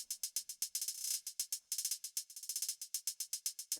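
Programmed hip-hop beat built on rapid hi-hat triplets with short hi-hat rolls, crisp bright ticks repeating in a tight steady pattern with brief bursts of faster clusters, heard alone.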